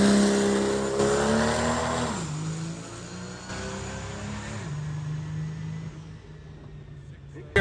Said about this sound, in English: Just getting the truck warmed up.